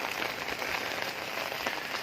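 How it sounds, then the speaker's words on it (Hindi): Steady rain patters on a village lane, an even, close hiss of drops on hard surfaces with no voices. "बारिश हो रही है, जो यहाँ के निवासी हैं वो सब अपने अपने घरों में हैं।"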